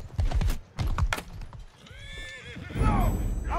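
Horses whinny and neigh amid the clatter of hooves and battle noise in Mount & Blade II: Bannerlord, loud bursts with rising neighing calls and thudding hoofbeats, with players' voices talking over parts.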